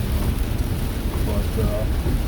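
Heavy rain pounding on a car driving along a road, a loud unbroken roar with deep rumbling from the road and tyres.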